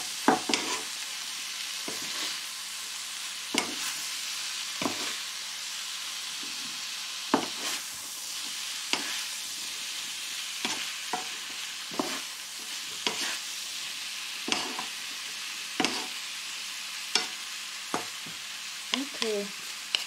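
Cucumber being stirred and warmed briefly in a pan for a Chinese-style spaghetti with vegetables and tuna, with soft sizzling under regular utensil scrapes and taps against the pan, close and moderately quiet.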